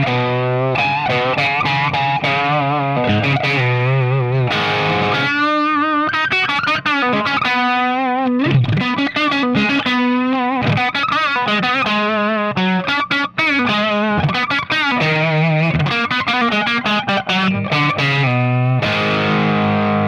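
Electric guitar played through a SonicTone '67 Special 50W British blues/rock tube amp with the gain turned up, running on the solid-state rectifier with a punchy negative-feedback setting; a loud, continuous distorted riff with sustained chords and quick note runs, no talking.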